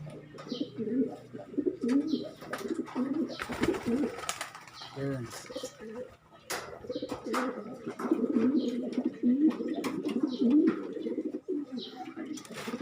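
Red bar pigeon of Alpamor bloodline cooing in repeated low, throaty phrases close by, with faint chirps and handling noise around it in a loft.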